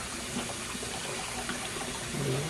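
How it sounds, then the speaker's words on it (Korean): Lemons being rinsed under a cold kitchen tap, a steady broadband rush of running water continuing evenly throughout, fairly close, with no talking. "이렇게 식은 물에다가 찬물 깨끗이 헹궈주시면 돼요."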